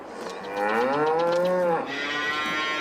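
A single cow in Farming Simulator 22 lets out a long, loud moo that rises and then falls away, with a steady background hum underneath.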